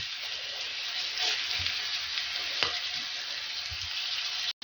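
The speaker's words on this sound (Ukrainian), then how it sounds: "І сюди засипаю цибулю, хай разом з картоплею отут обсмажиться." Chopped onion sizzles steadily in a hot pan alongside young potatoes, a dense continuous frying hiss with a few faint stirring clicks, close and alone without any talk.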